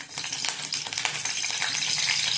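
Oil with curry leaves sizzling in a hot kadhai, a steady, bright crackling hiss with small pops, moderately loud and close, with no voice over it.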